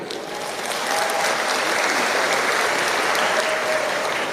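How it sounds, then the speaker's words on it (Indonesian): Dense applause from a crowd fills the space, steady and loud throughout. "Tepuk tangan untuk NU."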